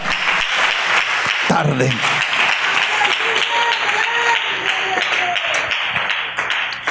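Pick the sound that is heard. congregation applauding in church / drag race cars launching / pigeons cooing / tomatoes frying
congregation applauding in church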